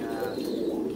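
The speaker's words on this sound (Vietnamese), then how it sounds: "bên cạnh đây là chim bồ câu đa ràng cũng đang to này." Pigeons, young squabs and adults, coo steadily on a Vietnamese pigeon farm, a soft continuous throaty murmur close by with faint chirps above it.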